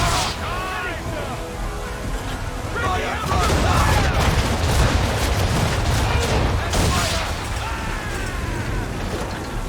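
Cannon fire in the video game Assassin's Creed III, with several heavy booms rolling out over a long noisy stretch of battle, mixed with shouted orders from the crew.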